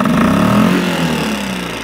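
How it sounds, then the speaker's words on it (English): A Mercury 3.5hp outboard motor, not yet fully warmed up, revs loudly and steadily close by, its engine pitch rising and holding for about two seconds. "Now we'll go ahead and rev it, make sure the carburetor is able to keep up."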